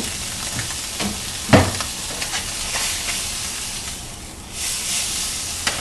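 Brains sizzle in oil in a pan, a continuous close frying hiss with scattered crackles and a clatter of stirring, the sizzle swelling again near the end.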